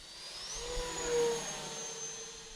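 A quiet Turbo Timber Evolution RC model plane flies past with a smooth electric motor whine that swells briefly as it nears, then fades slightly, with a faint high tone above.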